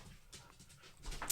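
A dog whimpers softly and pants while licking at close range, with wet, uneven snuffling and a sharper whine near the end.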